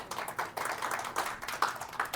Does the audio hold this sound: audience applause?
yes